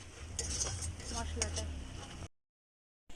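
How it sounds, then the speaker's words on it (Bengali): Spice masala being stirred in a pan for a Lote fish dish, with butter added, makes close scraping and clinking of a spatula over a low sizzle, cutting off abruptly into silence near the end. "অল্প করে নাড়িয়ে ভালো করে কষিয়ে নেব"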